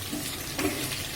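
Green chillies frying in a pan give a short burst of steady sizzling with a light stir, close and clear, ending in a sharp clack.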